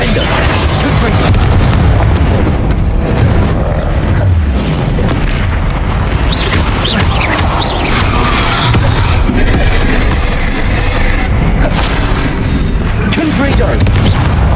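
Confringo blasting-spell explosions in the video game Hogwarts Legacy, a dense, roaring wall of booms and bursts that stays loud and continuous throughout, with a voice shouting over the din.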